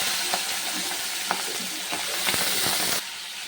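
Potatoes and onion stalks sizzle in hot oil with black cumin, a close, steady frying hiss broken by several scraping stirs of a spatula, easing slightly at the end.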